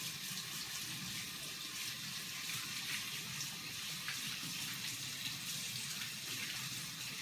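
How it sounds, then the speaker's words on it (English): Hands are washed under a running tap in a home kitchen while making biscotti, a steady close hiss of water that runs throughout. "Wash the hands a little bit."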